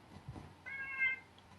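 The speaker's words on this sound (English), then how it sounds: "Yes, that is a cat." A cat gives a single short meow, faint and alone against a quiet background.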